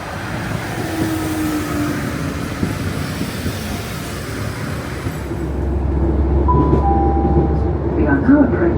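A West Midlands Railway passenger train runs toward Spring Road, its low rumble and wheel noise steady under a passing voice, with the cabin drone deepening and brief tonal squeals appearing in the later seconds.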